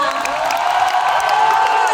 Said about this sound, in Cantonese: 所以可唔可以再一次俾大力啲嘅掌聲送俾佢哋兩位啊？